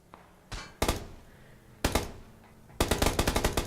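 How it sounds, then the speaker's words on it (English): Gunfire rings out in the video game PUBG: two single shots, then a lone crack, and finally a rapid burst of about eight rounds, all loud and close with no talking. "Just taking some shots from various directions."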